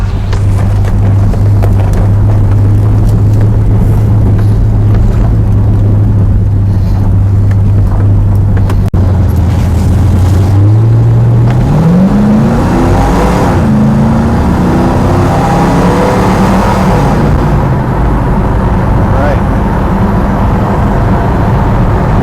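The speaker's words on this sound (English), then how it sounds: "Still runs pretty good for a 47-year-old car" A 1973 Plymouth Duster engine idles steadily with a low hum, then revs up and climbs in pitch before settling, with some wind noise over the microphone.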